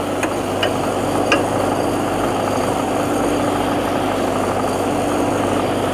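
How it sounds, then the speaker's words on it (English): A cold-water diesel trailer jetter rated 18 gpm at 4000 PSI idles at low RPM with a steady, continuous engine drone, joined by a few faint clicks early on. "So that shows how to manually fire the engine up."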